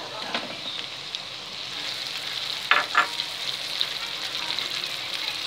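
Onion and tomatoes frying in a pan with dried coriander and salt, a continuous soft sizzle with a few stirring scrapes and splashes near the middle, faint talk underneath.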